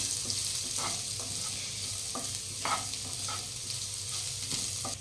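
Finely chopped cabbage sizzles in a pan for a Kathiawadi stuffed papad curry, a steady bright hiss with a few soft scrapes of stirring, close and unbroken by talk.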